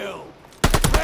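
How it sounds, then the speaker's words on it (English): A quick burst of rapid automatic gunfire in Modern Warfare breaks in loudly after a brief quieter stretch, several sharp shots in fast rhythm. "I hear that gun"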